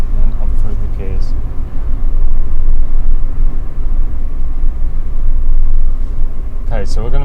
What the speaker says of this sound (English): And then up through the gears.